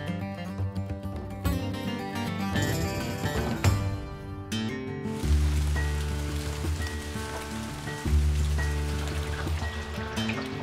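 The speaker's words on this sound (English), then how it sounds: "first morning is up and is an absolute downpour" Heavy early-morning downpour in Louisiana deer country, a steady wash of rain hiss running continuously beneath prominent background music.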